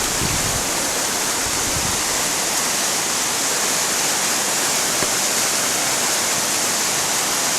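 Benlister Falls at Lamlash in spate after heavy rain, a powerful waterfall pouring without pause. The roar is loud, dense and unbroken, close by, with no voices over it.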